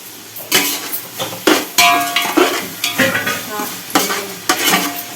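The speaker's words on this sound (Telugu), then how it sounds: "నేను మసాలా సంబంధించిందంతా ఫ్రై చేసేస్తున్నాను" Ginger garlic masala paste fries in a pan, a loud close sizzle broken by repeated scraping and clinking strokes of a spoon stirring against the metal, with no talking.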